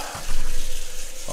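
Cold tap water running into a large drinking glass, a steady close rushing and splashing stream that swells in the first moments and continues evenly to the end.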